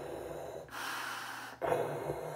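Two loud, sharp nasal sniffs at a shave soap and aftershave, each a short rushing inhale close to the microphone, separated by a brief quiet gap.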